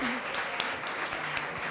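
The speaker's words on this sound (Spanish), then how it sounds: "vamos a dar un gran aplauso a nuestras dos invitadas, Mara y Cintia" An audience applauds the guests of an international seminar on special education policy; the applause is soft, continuous and somewhat distant, with faint speech sounds mixed in.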